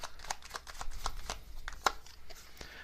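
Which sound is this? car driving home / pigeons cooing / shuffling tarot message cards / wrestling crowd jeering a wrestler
shuffling tarot message cards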